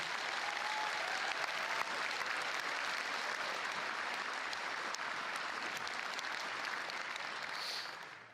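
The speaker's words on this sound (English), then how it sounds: "just a quick round of applause, please." Sustained applause from a large audience at the Eve FanFest keynote, a steady dense wash of clapping that stays loud throughout and tapers slightly at the very end.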